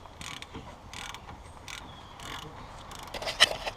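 Soft, intermittent metallic clicks and ratcheting creaks from an 8mm hex key loosening brake caliper bolts on a Lotus Elise, close but quiet, in irregular short bursts with a sharper click near the end.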